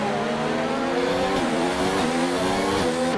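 Several F1 cars roar past in a Formula One video game race at the 2019 Canadian circuit, a continuous loud engine whine with shifting harmonic pitch as cars overtake, including a McLaren passing a Toro Rosso.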